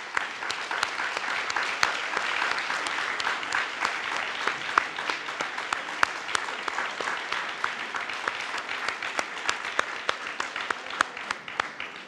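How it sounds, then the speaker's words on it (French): A church congregation applauds volunteers warmly, steady dense clapping from many hands with sharper individual claps standing out, sustained and even throughout. "J'aimerais vraiment qu'on les applaudisse chaleureusement."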